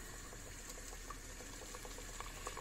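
Steady, dense sizzling of patile frying in hot oil, close and continuous, with occasional small pops and no voices.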